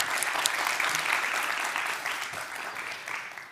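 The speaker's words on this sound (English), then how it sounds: "Another round of applause for Geert Wiggertjes." An audience at the TEDx climate conference at Wageningen University claps in a dense, continuous burst of applause that slowly fades over a few seconds.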